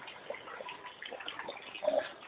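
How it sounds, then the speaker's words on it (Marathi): Rainwater running off the roof eaves of a village house, a soft continuous splashing and trickling pour, fairly faint and heard on its own. "लवचणीचं पाणी पडतंय."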